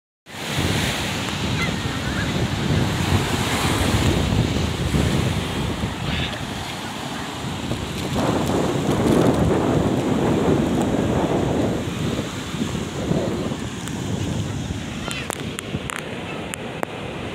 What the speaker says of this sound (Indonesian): Oh, di sini udah langsung pantai lagi guys.